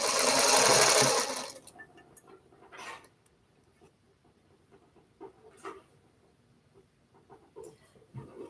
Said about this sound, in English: See if I can get some of these rows sewed together.